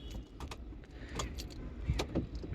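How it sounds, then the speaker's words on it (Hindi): Car keys jangle softly inside a 2023 Tata Nexon during a pre-delivery check, a few quiet metallic clinks against faint cabin background. "दोनों चाबियों को अच्छे से लगा के देख लेना है।"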